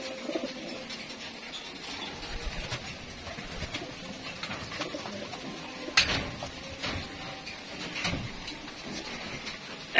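Pet pigeons in a loft give soft, low cooing that runs steadily through the whole stretch, with a couple of brief knocks or clatters partway through and no talking.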